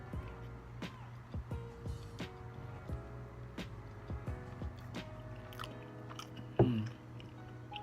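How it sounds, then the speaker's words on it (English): Crispy BBQ riblet sandwich being chewed close up, soft crunchy bites and wet mastication repeating irregularly, with one louder crunch near the end, all fairly quiet. "I made sure like the little riblet was crispy around the edges. That's why y'all can hear the crunch."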